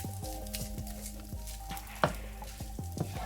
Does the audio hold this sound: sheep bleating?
no